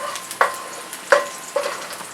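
Onion and rough-cut vegetables with fresh garden herbs frying for adobo, a light sizzle cut by three sharp clinks of a utensil against the pan at roughly even intervals.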